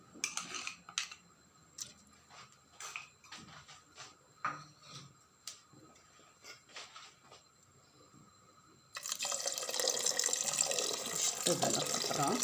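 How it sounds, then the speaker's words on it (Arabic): Water poured from a tap into a pot of vegetable and fish soup, a steady bright rush that starts abruptly late and runs loud to the end, after scattered clinks and kitchen handling noises. "نزيد لها شويش د الماء"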